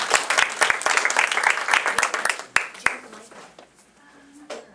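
Audience applause welcoming a performer to the stage at an improv summer showcase, loud and dense at first with sharp individual claps, then thinning and fading out toward the end.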